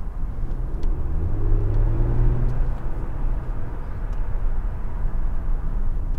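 A 2021 Mercedes-AMG S500 S-Class Long accelerating gently in comfort mode through the city gives a muffled, low engine rumble that swells and rises briefly in pitch, heard from inside the quiet cabin over steady road noise.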